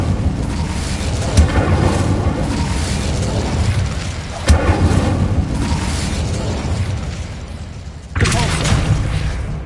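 A fire spell, Incendio, is cast in a Harry Potter video game: loud whooshing bursts of flame with booming onsets, three sharp blasts spaced a few seconds apart over a roaring sustained rumble.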